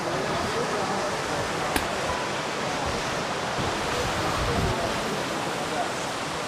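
Yasouj waterfall in Iran pours in a steady, dense rush of broadband water noise, loud and constant throughout, with a brief sharp tick partway through and no clear talking over it.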